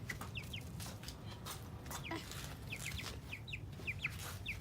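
A chicken being caught for a bath gives short, scattered clucks and squawks, faint against a steady background hum, with no talk.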